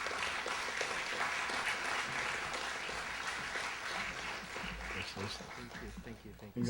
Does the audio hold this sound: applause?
yes